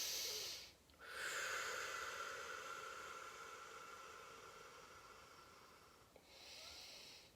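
Slow, deep breaths during a seated chair yoga stretch, a long soft airy inhale and exhale heard close and faint, with a brief quiet gap before the next breath begins.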